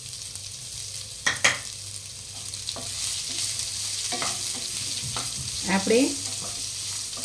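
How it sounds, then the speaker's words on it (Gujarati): Chopped cabbage sautés in a hot pan with a steady sizzle, broken by a few sharp spoon scrapes and clinks against the metal, while a voice speaks briefly. "કોબીના આ રીતના આપણે સાતરી દઈશું"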